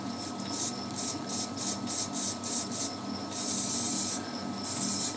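Short bursts from a spray can coat old steel bolts turning slowly on a lathe, a series of rhythmic hissing puffs followed by longer continuous sprays over a faint motor hum.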